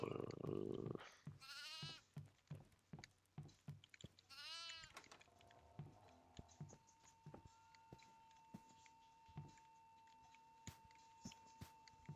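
Goat bleating in the horror video game Devour, two loud wavering bleats close by near the start, followed by scattered soft footsteps and small clicks over a steady faint tone.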